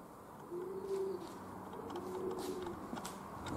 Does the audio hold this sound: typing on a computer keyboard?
no